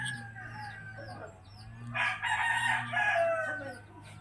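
A rooster crows loudly once near the end of the sound. Before the crow come several softer chirps and clucks from chickens, and a low hum runs underneath.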